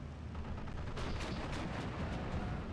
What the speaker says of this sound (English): Yak 90 coming in for a strafe on these